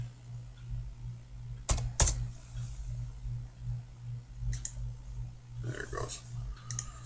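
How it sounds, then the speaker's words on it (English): Computer mouse clicks while working in CAD software: a couple of sharp, close clicks in quick succession, then a few fainter scattered clicks over a low steady room hum. "So I'm just going to left click on this."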